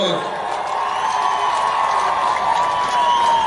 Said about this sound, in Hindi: ताली बजाएर स्वागत गराइदिनुहोस्।